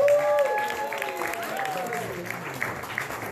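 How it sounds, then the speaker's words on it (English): Applause from a live music audience fills the whole stretch at steady volume, with a person talking over the clapping and a few sustained tones running through it. "Give him a round of applause for showing up, supporting the movie"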